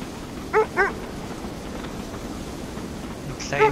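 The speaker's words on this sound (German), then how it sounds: "Die kleinen feinen Hundis" Sled dogs in the video game Kona II: Brume give a few short barks, two quick yaps early on and another pair near the end, against a low steady ambient hum.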